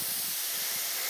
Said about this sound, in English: Look at how cracked there, and it's leaking. You can hear it.